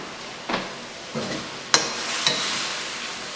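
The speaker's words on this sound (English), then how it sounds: "this is where you can add your hot Thai basil" Hot Thai basil being stir-fried in a hot pan for beef pad krapow, with a low steady sizzle and a few separate scraping stirs, one sharper clink near the middle, no talk.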